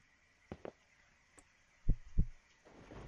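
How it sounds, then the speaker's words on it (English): Heartbeat in the horror video game One Late Night. Quiet, low thumps, with an early faint pair and then two louder double beats about a second and a half in, over a soft hum, with no talk. "Oh god, why's my heart beating?"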